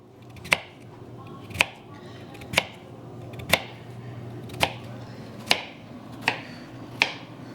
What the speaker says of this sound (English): Now that I've finished cooking or cutting the elk steak